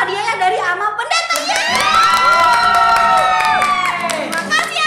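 Children at an online Pentecost Sunday school service in Bandarlampung clap and cheer together for a gift, a loud, steady burst of shouting and high-pitched whoops lasting several seconds, with voices dominating over the applause.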